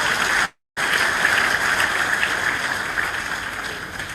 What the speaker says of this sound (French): Je pense qu'il faut vraiment l'applaudir très fort.